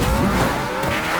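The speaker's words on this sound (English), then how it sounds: "Again, using the truck to kind of just key around." A truck driving in the video game Fortnite: a continuous engine roar with tire noise that holds steady across a very short stretch, with no talking.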